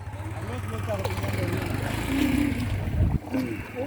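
A boat carries riders across Sylhet floodwater, its engine giving a steady low drone throughout with voices talking over it.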